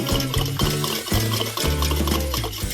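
Water being poured into a clay pot of curd, a gurgling, bubbling fill with repeated glugging pulses, fairly quiet and close, with no talking.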